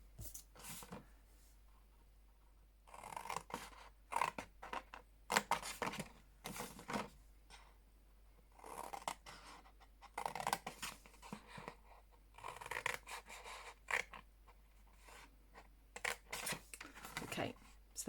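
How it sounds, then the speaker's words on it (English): Scissors snipping through card up to a score line, a run of short crisp cuts interspersed with quiet handling sounds, heard close and faint. "And just cut up to the first score line."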